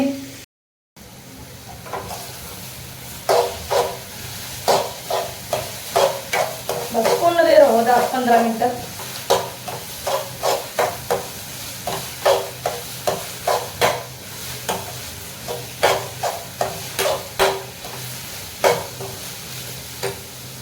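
Halwa roasting in a pan while being stirred, with a soft steady sizzle under a run of regular scraping strokes of a spoon against the pan, close up and moderately loud.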